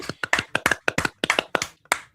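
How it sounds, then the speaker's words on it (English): A sparse handful of hand claps from a small audience at a local Dallas–Fort Worth band show, about nine sharp claps in an uneven rhythm over two seconds, close and without talk. "Somebody give me an applause."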